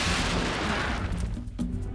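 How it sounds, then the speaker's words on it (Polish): A meteor shower spell explodes in Heroes III The Shadow of Death, a dense, roaring burst of crashing noise that stays loud for the whole two seconds with one brief dip near the end. "Deszcz meteorytów, 100 punktów obrażeń"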